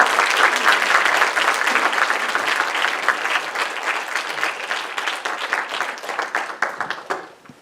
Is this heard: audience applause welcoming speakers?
yes